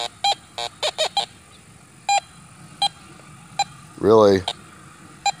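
Minelab CTX 3030 or Fisher F19 metal detector sweeping over a nail board, giving short, sharp electronic beeps in irregular bursts, followed by a brief spoken word.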